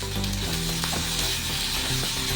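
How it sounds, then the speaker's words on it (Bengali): Potatoes and vegetables for a bitter gourd chorchori sizzle and fry steadily in a pan while being stirred, with close, continuous crackling throughout and no speech. "আলুটাও আমি বেশ ভালো করে নাড়াচাড়া করে এর সঙ্গে মিশিয়ে নেব।"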